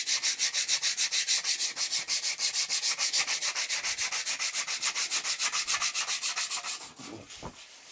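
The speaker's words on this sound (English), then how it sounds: "I've given that a solid sand, taken most of the gloss off it." 80-grit sandpaper is rubbed over a BSA motorcycle fuel tank, a wedge tank, in a steady quick back-and-forth rhythm of close, rasping strokes that slow and fade near the end, with no talking.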